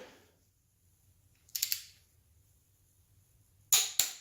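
A ratchet wrench tightens cylinder head bolts on a turbocharged LS/LQ4 V8 engine, giving two brief bursts of sharp ratcheting clicks, one near the middle and a louder, closer pair at the end, with quiet between.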